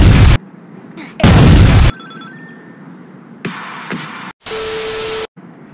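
Loud bomb blasts in the online superhero game Green Lantern Heroes Online World, several abrupt booming bursts separated by quieter gaps, with a thin ringing tone between them.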